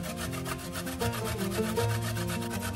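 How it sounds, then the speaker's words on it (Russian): Carrots rubbed against a fine kitchen grater give a rapid, rhythmic rasping scrape, close and steady, with repeated strokes and no talking. "Затем 250 грамм моркови натираем на мелкой терке."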